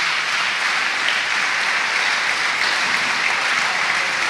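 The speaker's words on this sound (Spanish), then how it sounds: "Dar un aplauso fuerte a Jesús" A church congregation gives a loud, sustained round of applause, many hands clapping together in a dense, even wash that holds steady from start to finish.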